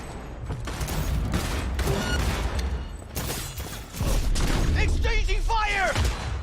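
A gunfire exchange in Cyberpunk 2077, with rapid bursts of shots and crackling impacts mixed with shouting voices, growing louder and denser in the second half.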